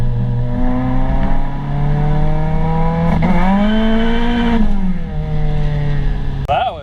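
A K-swapped Mini Cooper on a nitrous test hit roars loud and close as its engine pitch sweeps up and down while the tires spin, then ends with a brief higher-pitched squeal.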